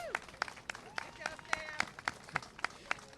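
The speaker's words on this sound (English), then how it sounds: "I know that applause isn't for me; it's for John Lewis." A crowd at the grand opening of the John Lewis Memorial Bridge applauds, sharp claps rising at a regular pace out of the background with voices over them, moderately distant.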